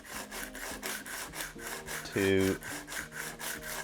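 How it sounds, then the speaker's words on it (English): Sandpaper held flat over primer on the wing of a Classic Mini 1275GT race car, rasping in steady back-and-forth strokes at close range, with one brief louder tonal squeal partway through. "I'm just using this sandpaper as flat as I can"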